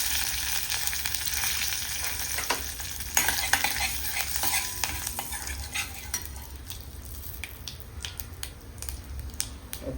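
Cumin, mustard seeds, turmeric and asafoetida sizzle in hot oil, giving a close, crackling frying hiss broken by sharp pops and spoon-against-pan clinks as the spices are stirred.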